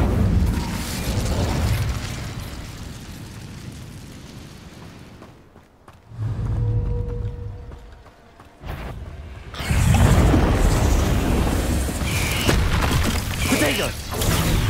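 Incendio fire spell cast in Hogwarts Legacy: a whooshing, roaring burst of flames that drops away into a quieter stretch and then flares back up with a strong crackling rush.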